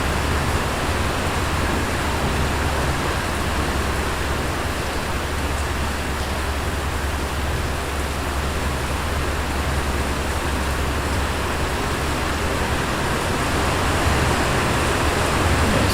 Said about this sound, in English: we're getting a little bit more rain coming down now